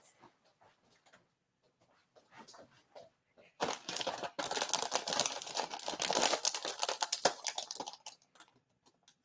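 Wrapping material being cut with scissors at a craft table: faint rustles at first, then several seconds of loud, close crinkling and crunching snips that fade out near the end.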